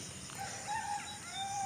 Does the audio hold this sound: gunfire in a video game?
no